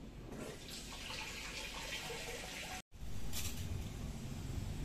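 Steady running water gushes continuously while garden plants are watered at home, a close, even rush with a brief dropout near the middle.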